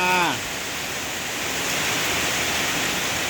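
Steady rain falls over a durian orchard in Ban Kruat, Buriram, a dense even hiss that continues throughout, with a brief voice at the very start.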